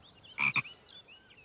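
A cartoon frog gives a quick double croak, two short bursts close together, loud and near against faint chirpy background tones.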